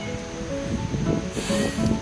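Strong wind blowing off the foot of a mountain rushes through tall trees at a campsite, a loud, broad, surging roar that swells near the end with no voices.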